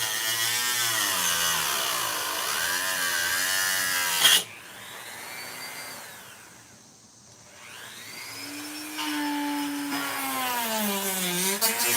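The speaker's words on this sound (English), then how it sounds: "All right, now I can go back to the sand disc" Power sanding disc grinding into a plastic Jason Voorhees Part 7 costume piece, a loud steady motor whine with shifting pitch, dropping off mid-way before spinning back up.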